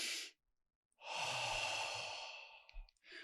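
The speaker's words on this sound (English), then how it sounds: "You do a little deep breathing with it." Slow, deep breathing with a long, drawn-out exhale that follows a brief inhale. The breaths are close and fairly loud, and no speech is heard.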